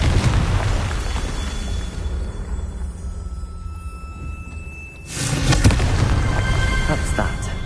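A Confringo spell in Hogwarts Legacy ends in a loud, booming blast with a rumbling tail, preceded by a broad whooshing magical roar.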